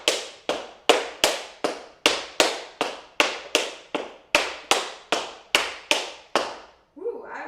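Tap shoes strike a floor in a steady run of fifteen sharp, ringing taps performing the Bombershay tap step, evenly spaced and close, each decaying quickly before the next.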